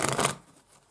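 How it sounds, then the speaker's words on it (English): A short burst of tarot cards riffling as they are shuffled, close and crisp for about a third of a second, then fading into quiet room tone. "But I'm shuffling them again now,"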